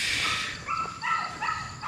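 A dog gives a few short, high-pitched yips and barks nearby, in quick bursts over a steady background hiss, with no talking.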